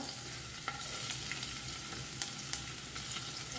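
Garlic frying in hot oil with cumin and mustard seeds for an eggplant bhaji, a dense constant sizzle with a few light stirring taps, close and steady with no voices.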